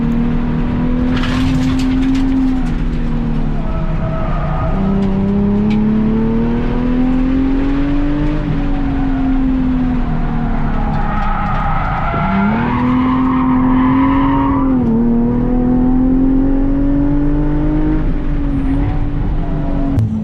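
An Infiniti G37 race car laps the Streets of Willow circuit, its engine loud and close as it revs up and down through the gears, with tire squeal through the corners.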